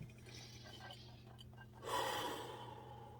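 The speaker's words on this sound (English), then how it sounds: "So this is a good time to take several deep breaths" A few deep, slow breaths taken during a mindfulness exercise, faint at first and then a fuller, louder exhale rushing out near the middle, with no talking.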